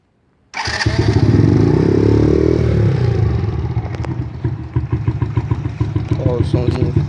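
Honda Joy Plus motorcycle fitted with an aluminium exhaust starts up loudly and settles into a throaty, pulsing idle with a few revs, up close and steady throughout the clip.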